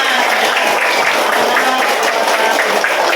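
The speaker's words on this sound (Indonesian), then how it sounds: "tepuk tangan buat semuanya" Audience applause after a classroom clapping chant, a dense steady patter of many hands sustained loud throughout with faint voices mixed in.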